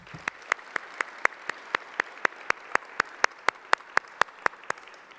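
A small audience at a school district awards ceremony claps for dedicated public servants, a sparse, evenly spaced round of crisp, distinct claps, fairly close and loud.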